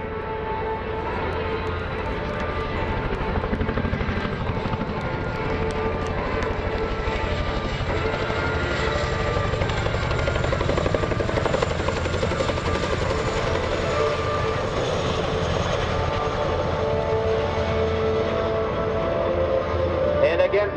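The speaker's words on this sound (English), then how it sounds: "I'd like to present the crews of the Connecticut Army National Guard's 1st Battalion, 169th Aviation, flying the CH-47 Chinook." A CH-47 Chinook helicopter flown by an Army National Guard aviation crew at an airshow open house gives a loud, continuous rotor-and-turbine roar that holds steady for the whole stretch with no pause.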